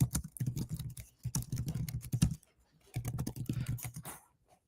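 Rapid typing on a computer keyboard, dense bursts of close, crisp key clicks in two runs separated by a short pause, with no voices over it.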